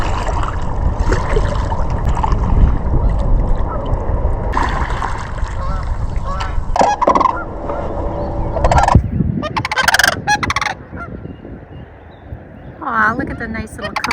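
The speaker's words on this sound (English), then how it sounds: "Looks like we're sneaking up on some more sandhill cranes here." Sandhill cranes give rolling, trumpeting calls at a glacial outwash lake, in loud bursts mixed with outdoor wind noise and handling sounds, with a voice briefly heard nearby.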